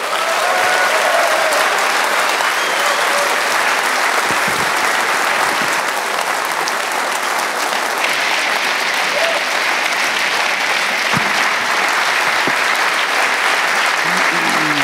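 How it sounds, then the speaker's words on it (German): A lecture audience at a conference gives sustained, dense applause that holds steady and loud throughout while welcoming a speaker to the stage. "Bitte begrüßen Sie mit mir ganz herzlich Herrn Andreas Popp."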